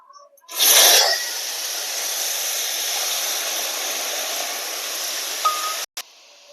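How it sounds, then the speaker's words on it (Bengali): Tamarind water poured into hot mustard oil tempered with two dried red chillies and a pinch of five-spice: a sudden loud sizzling burst that settles into a steady, strong hiss lasting several seconds, then cuts off abruptly. "এবার তেঁতুল জলটা দিয়ে দেবো।"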